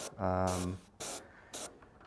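Airbrush spraying paint onto scale models, three short hissing bursts separated by brief pauses, the first longer and mixed with a tonal hum.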